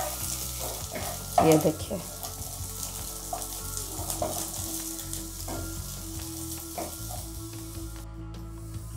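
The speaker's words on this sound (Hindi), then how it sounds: "ये देखिए ये मेरे अच्छे से फ्राई हो चुका है।" Gatte gram-flour dumplings fry in hot oil in a pan, giving a steady close sizzle broken by scraping and clattering as they are turned, with a few brief spoken words.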